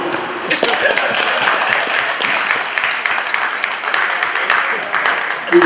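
Applause from the audience at an enhanced e-passport launch ceremony, a sustained patter of many hands clapping at moderate distance, steady throughout with no voice over it.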